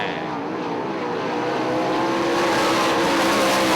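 410 sprint cars roar around Ionia Raceway Park, a loud continuous engine drone with a rising pitch as the pack passes close by, building steadily in intensity.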